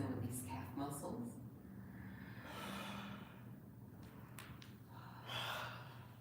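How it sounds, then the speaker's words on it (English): Deep, slow breaths during a guided gentle yoga session, audible as soft airy inhales and exhales, fairly close and alone with no speech over them. "Let's breathe."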